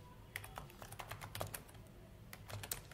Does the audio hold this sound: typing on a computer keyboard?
yes